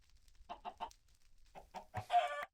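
Chickens in the Minecraft modpack Agrarian Skies give a few short clucks in quick succession, followed by a louder, drawn-out squawk.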